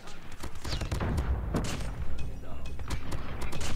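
Rapid bursts of CBR gunfire in a first-person shooter, loud and close, with dense overlapping shots and booms running through the whole stretch without pause.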